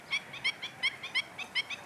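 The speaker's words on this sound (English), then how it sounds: "Some birds have become accustomed to raising their young here." Birds at a stable pond in the Bardenas Reales desert call in a quick run of about eight sharp, honking notes, close and alone over faint background noise.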